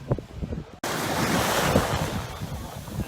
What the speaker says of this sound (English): Welcome everyone to a beautiful Arashi beach.